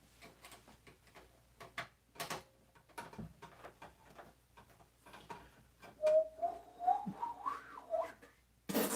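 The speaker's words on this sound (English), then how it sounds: "I can't whistle." A person attempting to whistle, producing a few thin, wavering pitched tones toward the end amid scattered clicks and handling noises in a quiet room.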